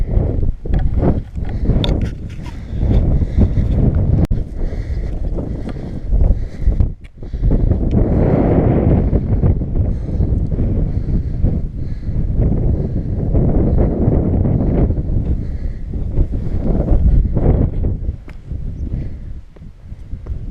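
Wind buffeting a microphone on an exposed hilltop walk up a breezy Welsh hill, a loud continuous low roar that gusts and briefly drops, with no voices.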